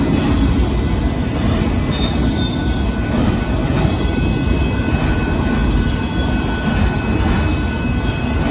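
A northbound Union Pacific mixed freight train rolls past the Dittmar Road crossing in Austin, Texas, a loud continuous rumble of wheels and cars with faint squeals, heard up close without talk.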